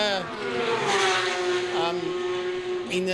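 GT and sports race cars roaring past on a circuit with high revving engine notes and a brief tire squeal, loud and continuous under a commentator talking.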